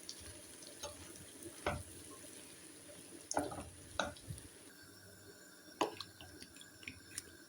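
Water poured into a pot of vegetables being cooked for bhuna khichuri, heard as faint dripping and splashing with a few soft clinks and taps against a low background hiss.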